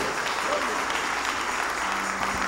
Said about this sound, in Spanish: Dale un aplauso al Rey con todo tu corazón.